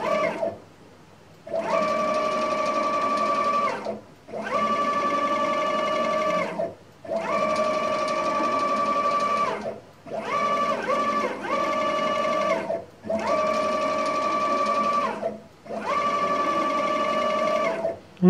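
NEMA 34 stepper motor with no encoder feedback, driven in repeated moves: six sustained whining tonal runs of about two seconds each, separated by short pauses, loud and close with no talk.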